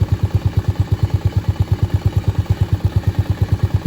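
Small single-cylinder Honda Navi scooter engine with an in-the-box air intake and Yoshimura aftermarket exhaust, running cold at about 2500 RPM without choke, giving a steady, close, even chugging pulse, alone and fairly loud.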